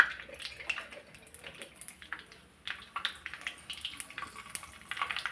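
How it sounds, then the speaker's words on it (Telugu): Four green cardamom pods and four cloves fry in oil, giving a faint, irregular crackle and sputter of sharp little pops that grows busier toward the end. "సరిపడా ఆయిల్ పోసుకోవాలండి. 4 ఇలాచీలు, 4 లవంగ మొగ్గలు"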